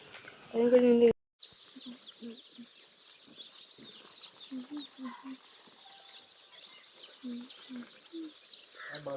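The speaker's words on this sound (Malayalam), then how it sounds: "ഇതൊക്കെ ഇന്ന് ഡെലിവറി ആയിട്ടുള്ള കോഴിക്കുഞ്ഞുങ്ങളാണ്." Young Kairali native-breed chicks, freshly delivered in a cardboard carton, keep up a constant high-pitched peeping and cheeping at close range. A brief burst of voice comes at the very start.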